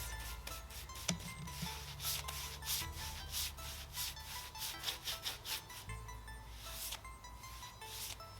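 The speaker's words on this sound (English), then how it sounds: "I'm lightly sanding the top between the coats" A wooden desk top is lightly sanded by hand between coats of polyurethane, with rhythmic back-and-forth scratchy strokes, close and fairly quiet, repeating evenly with brief pauses.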